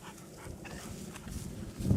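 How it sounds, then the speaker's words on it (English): Several dogs play together, with scuffling, soft grunts and snuffling whines in a steady low jumble that grows slightly louder toward the end. "there's all the dogs. And all of the dogs having fun."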